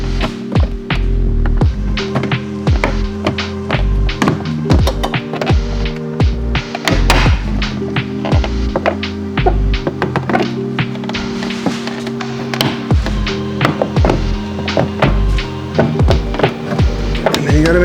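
A carbon fiber diffuser is pressed and clipped onto the wrapped rear bumper of a BMW G87 M2, giving repeated sharp plastic snaps and knocks over a steady low hum, close and loud.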